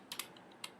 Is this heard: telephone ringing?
no